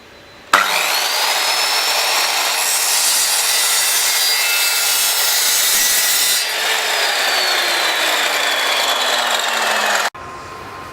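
A saw rasps steadily through a laminate flooring plank for about ten seconds, a continuous close, loud cutting drone that starts abruptly and stops just as suddenly.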